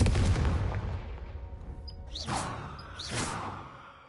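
Confringo fire blast spell in Hogwarts Legacy, a loud booming explosion with rumble at the start that decays, followed by two whooshing bursts.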